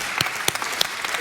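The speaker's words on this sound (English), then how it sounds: "let's give Wesley a big round of applause" Brief audience applause at a live business panel event, a moderate patter of clapping with a few sharper individual claps.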